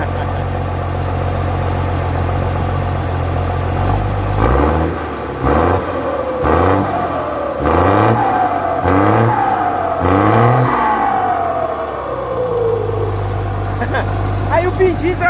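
A heavy FNM D.1620 diesel truck engine idles, then revs hard in a series of rhythmic bursts, spitting sparks from the exhaust, before settling back to a low idle, with voices talking over it.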